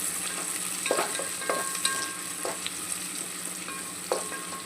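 Onions fry in hot oil for a vegetable pulao, giving a constant hiss with soft crackles, and a utensil stirring and tapping the pan now and then.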